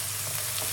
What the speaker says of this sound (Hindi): प्याज हमारा नरम हो रहा है